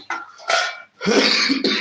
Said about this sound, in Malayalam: ഐസ്ക്രീമൊക്കെ കുടിച്ച് ചുമമുണ്ട്